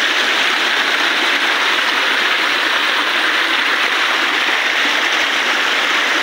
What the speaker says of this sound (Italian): sentivo lo scroscio forte, infatti è molto forte